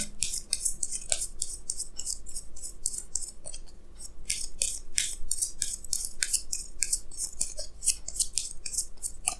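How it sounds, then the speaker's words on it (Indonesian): Tarot cards drawn from a deck during a Sagittarius horoscope reading: a steady run of crisp, close papery swishes and snaps repeating through the whole stretch, with no voice. "Jadi di sini saya akan tarik lagi 2 kartu tambahan, ya."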